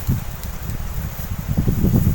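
Cold wind blowing outdoors around a small field hut among rice paddies, heard as a low, gusting rumble buffeting the microphone in uneven surges, with no one speaking.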